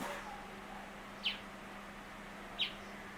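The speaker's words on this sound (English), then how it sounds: "One of the most difficult birds to shoot is this tiny tweeter bird called tailor bird." A tiny tailor bird gives two short, sharp high chirps about a second and a half apart, moderately close, over a low steady background hum outdoors near a lawn.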